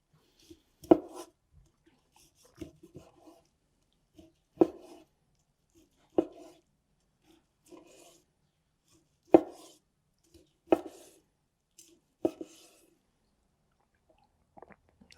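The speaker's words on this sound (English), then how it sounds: "take note of which way the grain is running, and you always want to slice against it." A knife slicing cooked hanger steak against the grain on a board: a series of soft, close taps and short cuts at irregular intervals, quiet with silence between, no talk.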